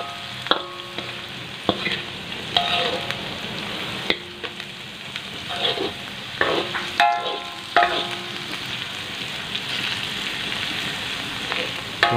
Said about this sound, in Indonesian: Kita tumis ya teman-teman hingga sayur kacangnya empuk.